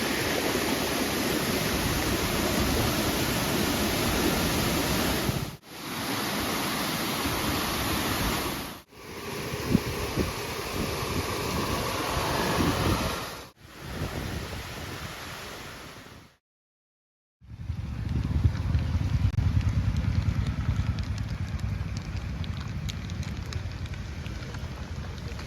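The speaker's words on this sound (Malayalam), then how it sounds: "മലമ്പുഴയിലെ ഹെവി വെള്ളച്ചാട്ടമാണ് നമ്മുടെ തെക്കേ മലമ്പുഴയിൽ." A heavy monsoon waterfall at Thekke Malampuzha roars in a dense, continuous rush of water, broken by a few abrupt cuts and one brief silence before the torrent resumes.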